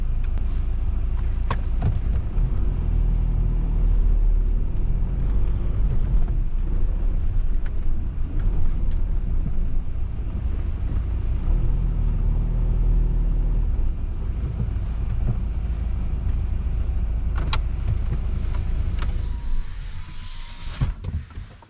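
A steady low rumble of a car driving, with road and wind noise holding constant, fading toward the end.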